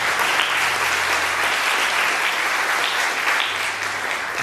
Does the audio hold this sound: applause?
yes